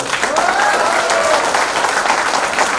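Audience applause at a health and herbal products talk in India, loud and continuous broadband clapping lasting about three seconds, with a faint whistle or voice rising over it early on.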